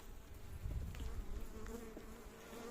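Steady, faint buzzing of many honey bees in a hive, a low continuous hum with occasional louder passes of individual insects close by.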